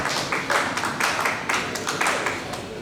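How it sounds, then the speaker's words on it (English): A few local spectators at a lawn bowls match give a light, scattered round of clapping, a handful of soft claps repeating in loose rhythm at moderate distance. "not a lot of locals clapped that, but a couple"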